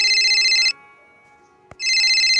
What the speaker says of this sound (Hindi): तभी फ़ोन कॉल आता है।